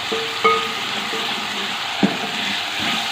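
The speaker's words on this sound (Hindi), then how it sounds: "ब्राउन कलर आने तक फ्राई करेंगे।" Chopped onion, garlic and ginger fry in a pan as they are cooked for lauki kofta curry, a steady close sizzle broken by two sharp clinks of a utensil being stirred.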